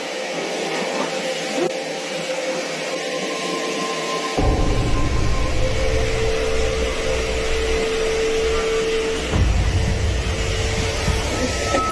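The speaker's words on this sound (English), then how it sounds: "casually vacuuming the hallway carpet" A vacuum cleaner runs on a hallway carpet with a loud, steady whining roar. The low rumble kicks in partway through and shifts level as the machine moves.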